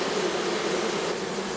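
A small honeybee swarm being hived in a Japanese-style hive, giving a continuous close dense buzzing hum with no voices.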